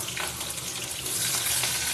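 Rohu fish sizzle in hot oil in a kadai with a continuous bright crackling hiss, swelling slightly louder toward the end, with no voices.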